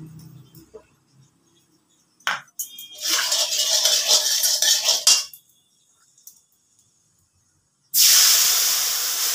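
Spice paste of salt, turmeric, Kashmiri chili and hot chili powder soaked in water sizzles and hisses in a hot pan, with a long spitting burst midway, a few utensil clinks, and a fresh loud sizzle toward the end.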